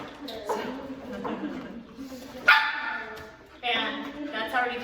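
Puppies of very different sizes play together, one telling the other off with sharp barks, yips and short whining bursts, close up and in uneven clusters separated by brief pauses.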